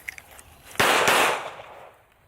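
A gun shaped like a cellphone fires a loud, sharp shot near the mic, followed quickly by a second blast and a lingering decay, after a few faint clicks.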